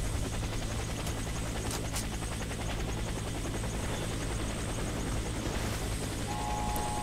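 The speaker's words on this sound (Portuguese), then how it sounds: "você começa no helicóptero" A helicopter in the video game Warface, a loud continuous rotor thrum and engine drone filling the whole clip, with a few faint sharp bangs on top and no talk.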